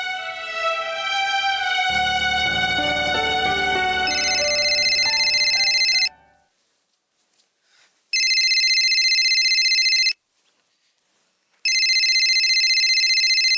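A telephone rings in repeated electronic bursts of about two seconds, separated by short silences, after a stretch of melodic background music.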